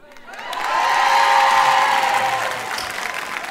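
Applause from a comedy show audience at the Dock Haussmann, rising quickly into steady clapping with some cheering, holding for about two seconds, then thinning out toward the end.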